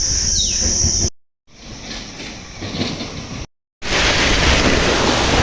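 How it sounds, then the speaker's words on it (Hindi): Rain arrives, heard from a rooftop as a loud, dense broadband hiss like heavy rainfall. It breaks off twice in short silent gaps and returns fuller and louder at the end. "तो गाइस, मैंने कहा था ना आपको बारिश दिखाऊंगा, तो ये देखो, ये रहा बारिश।"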